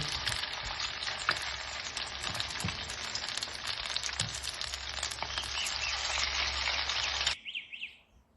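Batter fritters of zucchini sizzle in hot oil in a frying pan, a dense, close crackle that runs steadily before cutting off abruptly near the end, leaving faint bird chirps.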